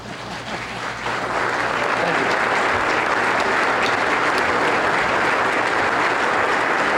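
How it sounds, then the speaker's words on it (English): Audience at an awards evening stands and applauds, a dense, loud, steady wash of clapping that swells after the first second and holds through to the end. "Everybody else stand up and clap for John."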